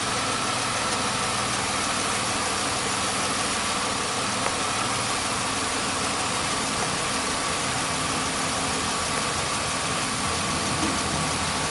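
A 2005 Chevy Impala engine idling with an intermittent stalling and no-start fault, a steady mid-pitched hum and vibration that continues evenly and fairly loud throughout with no talk.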